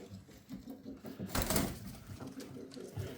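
Pigeons cooing in a coop, soft low throaty coos repeating at close range amid some rustling, with a brief louder burst of noise in the middle.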